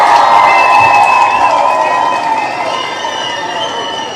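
A live audience cheers and whoops, with high wavering shouts over a dense crowd roar that stays loud and gradually eases off.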